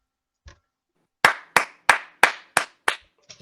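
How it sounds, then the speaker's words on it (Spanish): Seven sharp hand claps in a steady, evenly spaced rhythm, close and loud against near silence, after a faint soft knock at the start. "ese sonido es porque suenan aplausos"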